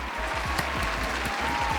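Audience applause for guests being introduced, a short, steady patter of clapping over a low, even background.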